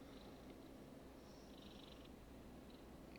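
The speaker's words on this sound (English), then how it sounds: "Yeah, you're purring." Maxwell the cat purrs very softly and steadily throughout, a faint continuous rumble with no other sounds.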